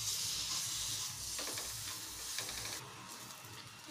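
Chana dal hits a hot pan for upma and sizzles steadily, with close stirring scrapes and a bright frying hiss that eases near the end.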